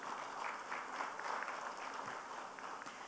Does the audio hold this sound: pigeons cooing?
no